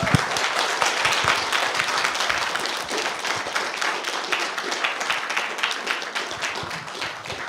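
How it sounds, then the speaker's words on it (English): Applause from a conference audience after a session: a sustained, dense wash of many hands clapping at a steady level for the whole stretch, with no voices above it. "Big round of applause."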